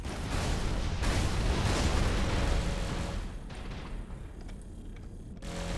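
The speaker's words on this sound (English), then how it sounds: "it is just the pulse cannons which are doing a lot of work" Pulse cannons fire on a ship in the space game Avorion, a dense, rumbling barrage of rapid blasts that stays loud for several seconds and then thins to a quieter, sparser crackle.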